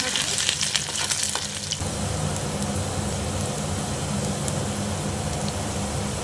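Ingredients for tomato dorma frying in a pan, a loud dense crackling sizzle, close and continuous, with some scraping of stirring at the start.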